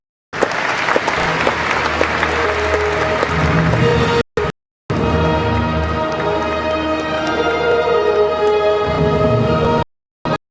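Loud, sustained applause from a large audience at the ACM ICPC World Finals 2016 programming contest ceremony, dense clapping filling the hall with two brief breaks before fading out.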